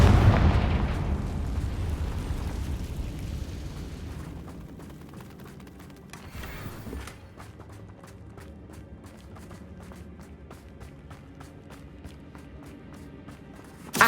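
Confringo spell blasts in the video game Hogwarts Legacy: a loud booming explosion opens, decays into rumbling debris, and is followed by quieter rapid crackles, pops and footsteps.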